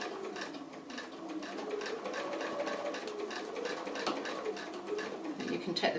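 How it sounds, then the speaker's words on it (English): A sewing machine stitching a regular 1/4 inch seam on a raised square pin cushion, a close, steady rapid ticking whirr running continuously throughout. "we'll go to the machine and we'll do that. Just a regular 1/4 inch seam."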